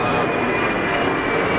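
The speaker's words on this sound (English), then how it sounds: "It's a very loud plane." A very loud airplane passing overhead in a flight zone, a steady broadband roar that holds at full strength throughout, with voices talking over it.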